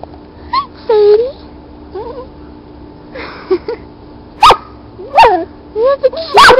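Sadie, a neighbor's pet dog, gives several short, sharp barks and small yelps close by, scattered across the scene with quiet gaps between them, while a person talks to her affectionately in between.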